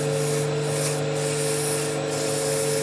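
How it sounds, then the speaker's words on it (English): Sandpaper rubs steadily against a wooden piece spinning on a woodturning lathe, giving a continuous close abrasive rasp over the motor's hum, with brief dips in the texture. "I can fix that now simply by sanding"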